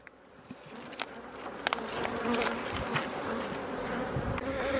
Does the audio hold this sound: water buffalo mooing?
no